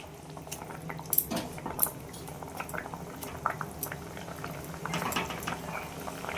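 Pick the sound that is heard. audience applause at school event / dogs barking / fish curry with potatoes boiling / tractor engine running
fish curry with potatoes boiling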